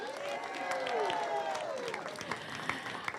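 A school crowd at a high school ribbon cutting claps in a dense wash of applause, with voices cheering and whooping over it, moderately loud and spread out.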